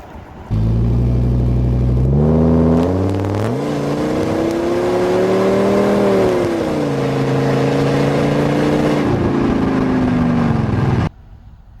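1999 Ford Econoline E350 van with a 6.8 liter V10 engine, a loud, close, steady engine drone that revs up, holds and eases back before cutting off.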